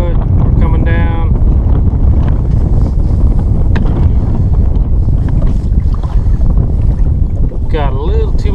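Strong wind blows across a microphone on a fishing boat with a trolling motor, a loud, steady rumbling buffet that lasts throughout, and a voice speaks briefly now and then.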